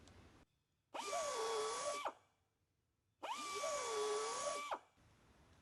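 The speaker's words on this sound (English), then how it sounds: "we'll go in there and we'll ream the injury out and remove the damage." A buffing tool spins a carbide cutter to ream out a tire injury, giving two separate whining bursts of about a second each with rising and falling pitch, close and clear against a quiet background.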